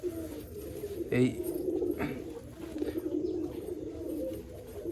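A pigeon kept for sale near Baruipur coos softly in a short burst, close by, under someone talking and low background noise.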